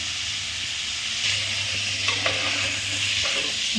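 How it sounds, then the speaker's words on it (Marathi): About 400 grams of paneer fries in hot oil on a gas stove, giving a steady close hiss and sizzle with a few faint clinks throughout. "हे चारशे ग्रॅम आता आपण तळून घेणार आहे"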